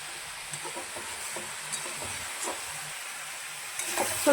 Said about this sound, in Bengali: অলমোস্ট হয়ে গেছে ভাজাটা